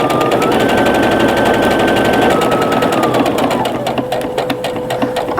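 A sewing machine stitches pillowcase seams in a fast, even mechanical rattle, loud and close, slowing slightly toward the end.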